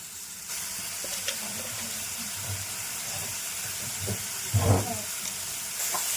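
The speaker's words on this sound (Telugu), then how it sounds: "ఉల్లిపాయలు బాగా ఫ్రై అవ్వాలండి" Chopped onions with a little salt sizzling in a pan, a steady crackling fry throughout with a few louder bursts and clinks of stirring, no voices.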